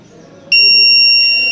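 A heat sensor alarm on a sun stroke detector sounds a loud, sustained electronic tone that starts abruptly and holds steady, close by.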